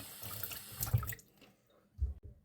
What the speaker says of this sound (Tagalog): Maghugas muna ako ng kamay.